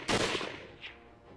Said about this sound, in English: a gunshot shattered the night air